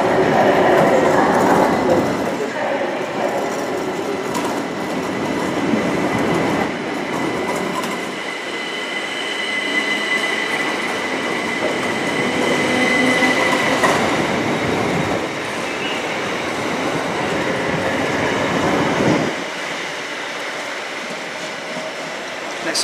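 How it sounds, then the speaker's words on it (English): A Southern Class 377 electric multiple unit, number 377428, departs Brighton station on the 12:32 service to Hastings, a steady loud rolling rumble with wheel squeal and clickety-clack of wheels over rail joints, broad and continuous throughout. "departing now is going to be the 1232 Southern service to Hastings"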